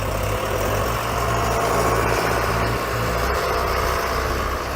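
A heavy diesel John Deere 6420S tractor engine, 120 horsepower, idles steadily up close, its low rumble chugging evenly without pause.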